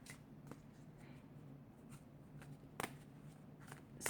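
Tarot cards slipping and snapping against each other as they are drawn from the deck, a few soft, close flicks and shuffles with a sharper card snap near the end, quiet and sparse.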